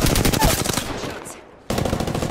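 Rapid automatic gunfire in a battle royale game, dense bursts of loud shots that stop for a moment and then resume, no speech.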